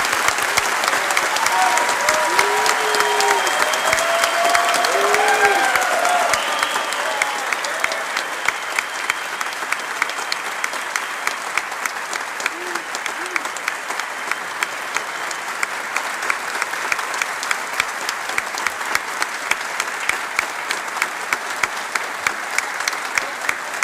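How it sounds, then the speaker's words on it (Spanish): Warm applause for president-elect Nayib Bukele at the National Theatre: a big crowd claps loudly and continuously, with some voices and cheers rising over it in the first few seconds. "para quien pido un caluroso aplauso"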